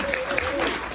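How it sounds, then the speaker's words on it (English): An audience at a leadership event in Newport Beach, California applauds a speaker: a brief, dense burst of steady clapping, with a voice speaking over it. "Give him a round of applause for that"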